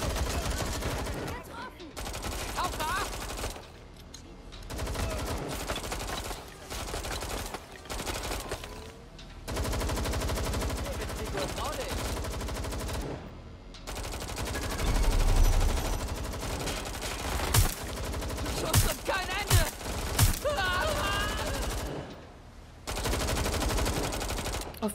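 Gunfire in Watch Dogs: Legion: sustained bursts of rapid automatic shots with sharp cracks, loud and near, with brief gaps between volleys and some talk mixed in.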